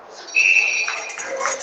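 A single shrill referee whistle blast at a senior ice hockey game rings out, sustained for about a second over faint crowd noise.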